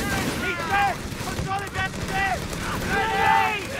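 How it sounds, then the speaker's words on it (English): Grenade explosions and battle noise in the World War II strategy game Company of Heroes 3, a steady rumble of blasts and gunfire running under a commentator's continuous voice. "Grenades coming in."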